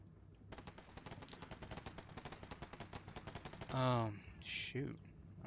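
Rapid automatic gunfire bursts rattle steadily in a combat simulator war game, dense and close, followed by a couple of louder whooshing blasts near the end.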